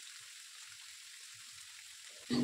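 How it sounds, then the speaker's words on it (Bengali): Chopped vegetables with salt and turmeric fry in a pan for a Bengali pui shak ghonto, giving a faint, even sizzling hiss throughout that ends with a sudden clatter. "সমস্ত যা যা সবজি কেটেছি সমস্তটাই দিয়ে কিন্তু ভালো করে এবার ভেজে নিতে হবে"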